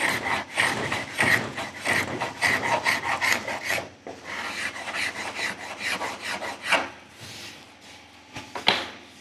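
A hand file rasps across the wooden body contours of a Strat-style guitar in quick, rhythmic close-up strokes, slowing into a few scattered scrapes after a short pause.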